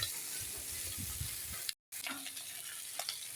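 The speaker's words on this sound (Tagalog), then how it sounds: "Ipiprito-prito lang natin ng konti para lumasa yung kanyang mga ricado." Pieces of young native chicken fry in a pan to soak up their seasonings, giving a close, steady crackling sizzle that stops for a short moment and then comes back with sharper pops and stirring.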